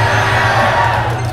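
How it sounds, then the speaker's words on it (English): A live audience at PAX West 2016 cheers and roars in a loud, continuous wash of crowd noise during a Final Fantasy XV gameplay presentation. "I like this crowd, Haz."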